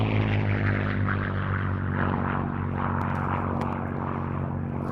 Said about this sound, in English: Now our attention turns, running into the Curtiss P-40F Warhawk.